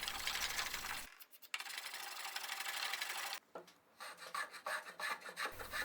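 A hand tool rasps along the edge of a wooden display wedge to cut a chamfer, giving close, dry scraping strokes in two long runs and then a flurry of shorter, quicker passes.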